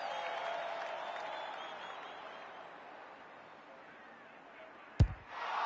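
Stadium crowd noise in the AFL 26 video game, a broad, steady roar of a large crowd that slowly fades, then a sharp thump near the end before the crowd swells again.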